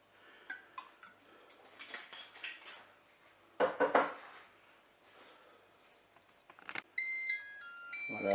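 A Cookeo multicooker gives a short series of bright electronic beeps near the end as preheating finishes, following clinks of utensils and pans around the cooking bowl.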